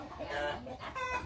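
Laying hens cluck in their coop, a faint, brief murmur of soft calls from a short distance.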